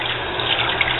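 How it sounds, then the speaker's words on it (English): Tap water runs steadily through the cavity of a raw turkey being rinsed for a roasted sage turkey, a continuous close splashing gush with no voices. "Run some water through the cavity of the turkey, both ways"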